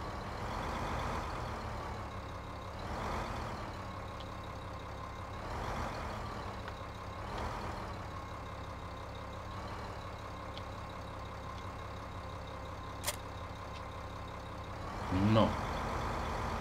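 Ursus tractor engine in Farming Simulator 15, a steady low rumbling drone that holds throughout with slight surges, a sharp high click near the end and a brief spoken word.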